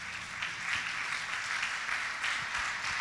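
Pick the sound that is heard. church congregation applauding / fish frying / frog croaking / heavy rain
church congregation applauding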